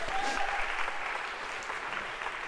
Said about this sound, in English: I feel Carter's waiting for applause